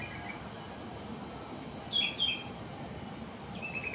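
A male Mozambique singer (yellow-fronted canary) gives a couple of brief, faint, high chirping phrases over a quiet background hiss, with a short pause between them.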